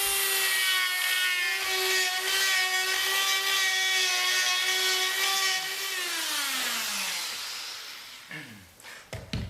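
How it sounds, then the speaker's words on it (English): High-speed die grinder evening out the surface of a wooden sculptural table, a loud steady whine with strong harmonics that holds, then winds down in pitch and stops near the end, followed by a few brief knocks. "So my objective with the die grinder is to just even out the surface so that I don't have to remove very much with the chisel"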